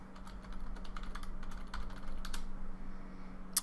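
Keys clatter on a computer keyboard in quick, light bursts of typing, close but quiet over a low steady hum, with no voices.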